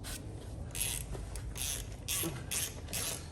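Bolts on a 2006 Mustang 4.0 V6 being tightened by hand tools during an ignition coil change: a few soft, scraping ratchet-like bursts over a low steady background hum, fairly quiet and close.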